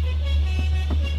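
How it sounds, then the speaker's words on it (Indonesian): Musical telolet horn on a heavy truck sounding in short tones over a steady, loud engine rumble, heard close by during a line of trucks climbing a hill. "Oh, telolet-nya ya."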